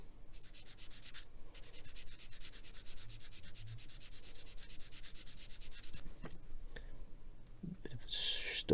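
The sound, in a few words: sanding a plastic model kit part with a soft sanding block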